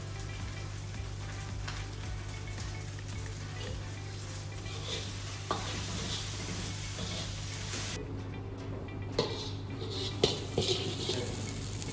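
Golden fried rice with egg, salt and pepper is stir-fried in a pan, giving a soft continuous sizzle under a steady low hum, with occasional scraping and light clinks of a utensil against the pan.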